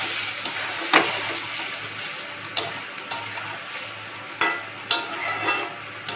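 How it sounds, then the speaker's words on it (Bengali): Lentils with garlic, chilli and onion are stirred in a hot pan over a steady sizzle, with several distinct spatula scrapes and knocks against the pan standing out. "এবারে আমি ডালটা দেখো এই ডালটা দিয়ে দিলাম, দিয়ে এবারে নাড়াচাড়া করব।"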